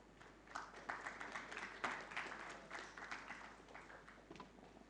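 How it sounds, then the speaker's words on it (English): Faint, thin applause from a small conference audience at a breakout session, a scattering of claps over a low steady hum. "Please give applause."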